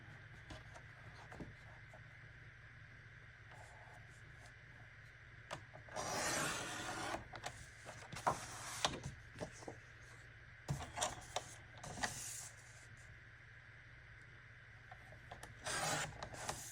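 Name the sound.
cutting out a paper image for a journaling card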